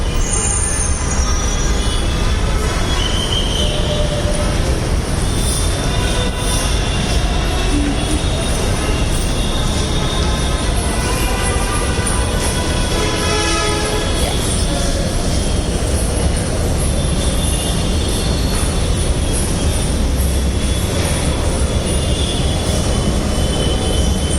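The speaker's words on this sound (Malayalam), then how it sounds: "ഇത് ഞങ്ങളുടെ മെട്രോ സ്റ്റേഷൻ" A metro train in a Bangalore station rumbles steadily, its wheels squealing and screeching at times, with a continuous loud roar throughout.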